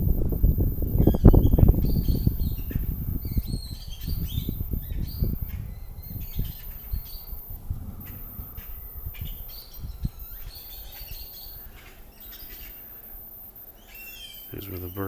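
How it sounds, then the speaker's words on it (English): Birds roost in a tree, chirping and calling from a moderate distance while wings flap, with louder rustling early that fades into scattered chirps. "Here's where the birds are all camped out."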